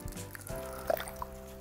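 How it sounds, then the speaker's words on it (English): A glass dipped into a steeped batch of liquid fertiliser made from grass clippings soaking in water, giving a few soft close drips and a wet squish, quiet against a low steady hum. "if I dip this glass in and get some of it to show you"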